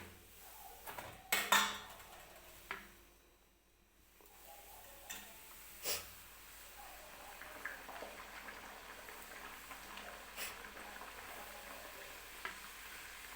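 A second semolina puri frying in hot oil, with a steady low sizzle, occasional stirring and tapping clicks, and a few louder bursts of bubbling near the start; no talking.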